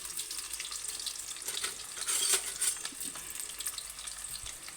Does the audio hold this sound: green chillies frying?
yes